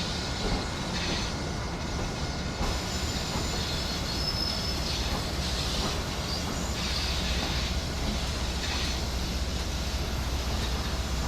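A double-headed passenger train in the 50th-anniversary livery rolls along the Northeast Corridor between Boston and Providence in Train Sim World, a steady loud rumble of wheels on rail with faint squeals and no voices.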